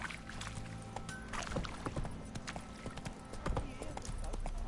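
Hooves of Roach, the horse in The Witcher 3, clop in a steady galloping rhythm, close and fairly loud over a bed of ambient game sound, with a voice speaking briefly.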